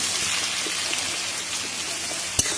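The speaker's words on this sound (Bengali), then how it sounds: "পেঁয়াজটা আমি এইরকমই ভেজে নেবো নরম নরম থাকবে" Chopped onions fry gently in a pan for a Bengali fish dish cooked with mustard paste, giving a steady, soft, even sizzle throughout with one small clatter near the end.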